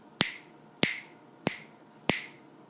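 Four crisp finger snaps ring out at an even pace, about two-thirds of a second apart, keeping a steady beat against a quiet background with no voices.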